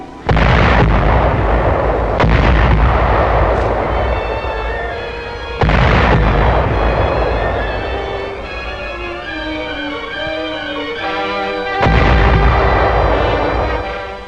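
Heavy naval guns firing in a WWII-era Pacific maneuver, three loud booming salvos at roughly six-second intervals, each blast trailing into a long rumbling decay, with no talk over them.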